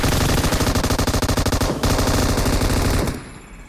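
Rapid automatic gunfire from PUBG Mobile, loud and close, a dense rattling burst of shots lasting about three seconds before cutting off, with no talk over it.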